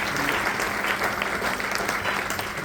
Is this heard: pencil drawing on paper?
no